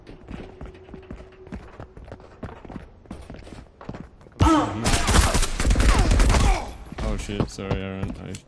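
Gunfire in the online shooter Marauders bursts out in rapid volleys, loud and dense, after a stretch of quiet footsteps and movement. Players talk over the shooting.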